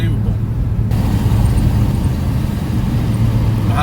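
Interstate 15 traffic near Las Vegas heard from inside a moving vehicle, a loud, constant low road roar and engine hum, while someone talks.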